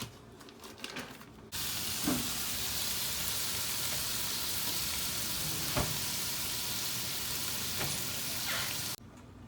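H-E-B brand uncured bacon frying in a pan, a steady loud sizzle and crackle with a few sharp pops, starting abruptly and cutting off near the end.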